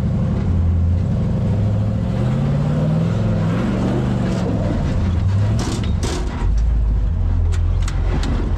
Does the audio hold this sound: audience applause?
no